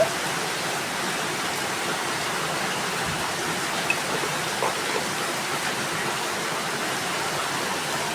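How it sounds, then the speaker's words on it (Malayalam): Steady, even rain noise hisses throughout, a constant wash of sound with no voices. "എല്ലാവർക്കും മഴ ഉണ്ടല്ലോ അല്ലേ."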